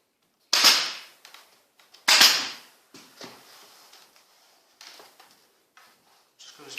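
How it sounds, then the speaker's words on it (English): Two sharp, loud staple gun shots drive temporary staples into the back of a chair's fabric during reupholstery, followed by softer clicks and handling noises. "Put a temporary tack at the back, temporary staple at the back"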